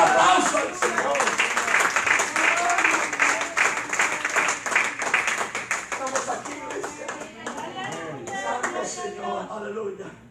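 A church congregation claps loudly and steadily, with voices calling out and talking over the clapping; the applause thins toward the end as speech takes over.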